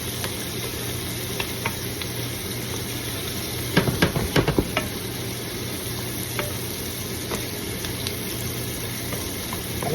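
Vegetables cooking in a pan before the meat is added, a steady close sizzle with a cluster of sharp utensil clacks and scrapes near the middle and scattered lighter taps.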